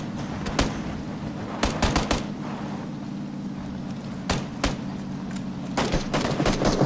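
Gunfire in the PUBG video game during a vehicle chase, with scattered sharp shots in short bursts over a constant engine-like drone, moderately close, with no talking.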